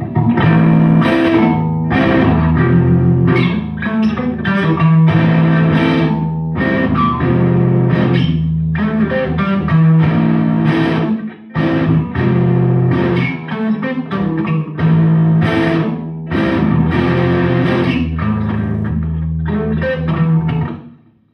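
Distorted electric guitar playing a song, loud and continuous with dense, sustained chords and rhythmic strumming for about twenty seconds, with no talking over it.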